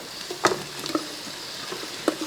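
Sliced onions with spices stirred and fried in a pan for a chicken biryani gravy, a soft continuous sizzle broken by a few sharp spoon scrapes and clacks against the pan.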